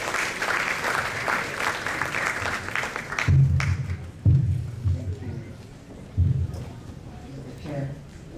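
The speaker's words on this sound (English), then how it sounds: "With a hand clap, please," An indoor audience at an anniversary event claps in welcome for a speaker, a dense burst of applause that fades after a few seconds as talking and scattered thumps take over.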